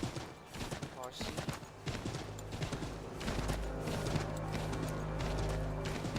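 A horse gallops in Assassin's Creed 3 Remastered: a steady run of hoof clip-clops under dense game music and ambient sound, close and continuous throughout.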